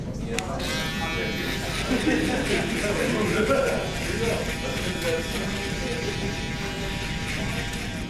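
An electric shaver buzzes steadily and closely through a burst taper fade haircut, its continuous hum holding for the whole stretch with faint background voices underneath.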